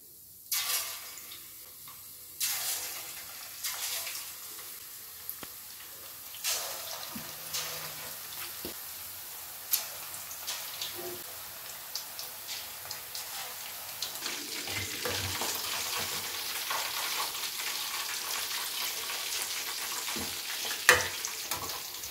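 Marinated chicken 65 fries in hot oil over a medium flame: a soft, steady sizzle with scattered sharp pops and crackles, plus occasional clinks and scrapes of stirring, growing busier and louder toward the end.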